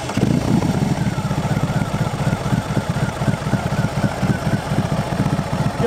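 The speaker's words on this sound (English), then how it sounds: "rev it up a little bit, and let you guys hear the engine" A 2022 BMW R 18 Transcontinental motorcycle engine rumbles up close with a steady, pulsing, throaty idle.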